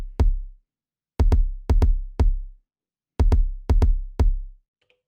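An Elektron Digitakt drum machine plays a short step-programmed pattern of deep, punchy kick drum hits, singles and quick doubles with decaying booms and silent gaps between, clean and close with no voices.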